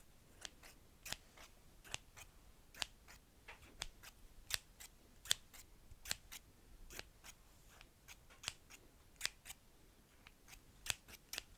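Scissors snipping quickly in a fast ASMR trigger sequence, many crisp sharp cuts in an irregular rapid rhythm, close and fairly quiet with no talking.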